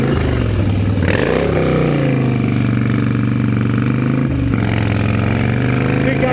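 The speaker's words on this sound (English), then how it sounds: "I'm on a fucking motorcycle" Motorcycle riding in traffic, a loud continuous engine drone with shifts in pitch as the rider changes speed, close to the microphone, with a voice shouting over it.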